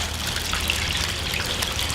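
Four cups of water poured into a bag holding a turkey, giving a soft, steady trickling and splashing wash that runs evenly through the whole moment, fairly quiet and close, with no voices.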